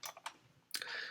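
A few sharp mouse clicks while pressing a button in After Effects software, close and crisp, with short gaps between them and a brief burst of clicking near the end.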